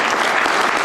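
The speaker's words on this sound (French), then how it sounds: "Et moi j'aimerais qu'on applaudisse très fort Jacques Philippot et tous les policiers et les policières" An audience claps loudly for police officers, a dense, continuous wash of applause filling the whole moment.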